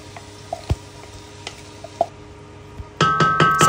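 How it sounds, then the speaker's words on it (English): Onion sautés in a pan on the fire, a faint steady sizzle punctuated by a few sharp utensil taps and stirs, growing louder as stirring begins near the end. "I'll start by sauteing my onion."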